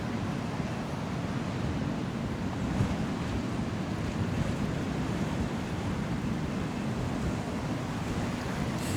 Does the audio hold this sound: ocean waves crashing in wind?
yes